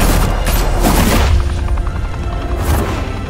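Heavy gunfire in the Batman: The Telltale Series video game: loud, dense overlapping shots and blasts fill the whole stretch, strongest in the first half and easing slightly toward the end.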